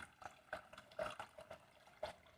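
Water poured into a pot for fish tinola soup, a faint, uneven splashing and trickling in short bursts, close by and alone.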